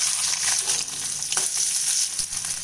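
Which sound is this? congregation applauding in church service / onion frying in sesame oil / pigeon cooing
onion frying in sesame oil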